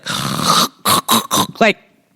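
A voice imitates a loud, abrupt snore in one long rasping burst, followed by three short snorting bursts and a rattling gurgle, close and loud with nothing else around it.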